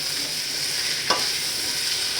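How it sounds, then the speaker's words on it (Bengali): Mango pieces sauté in a hot pan with a steady, close sizzling hiss, broken once by a single stirring scrape or clink partway through. No voices are present. "কষাবো, একে ভালো করে কষিয়ে তারপরে চিনি দিব।"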